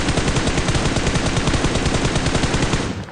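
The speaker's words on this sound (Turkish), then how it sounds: "Sol taraftan sıkanlar var." Sustained automatic gunfire from the mobile battle royale game PUBG Mobile, a dense, loud, rapid burst of shots running continuously for about three seconds before cutting off.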